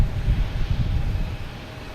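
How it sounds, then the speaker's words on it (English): JetBlue Airbus A220 airliner arriving from Charleston, a steady low engine rumble with wind buffeting the microphone, fairly loud and unbroken for a couple of seconds. "Next to arrive, we have a JetBlue coming in."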